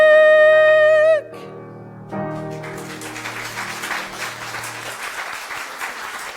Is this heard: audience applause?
yes